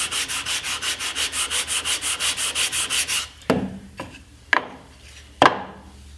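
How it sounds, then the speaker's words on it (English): Hand sanding wood with a sanding block to taper an outfeed table edge, about a dozen quick rhythmic rasping strokes, then a few sharp knocks and scrapes as the block is set down, close and clear. "take a sanding block and from about where the screw holes are located out to the edge, just taper it a tiny bit"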